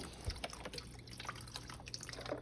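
Beef broth poured from a container into a pot of oxtails, a soft liquid splashing and dripping over about two seconds, fairly quiet and close with no talking.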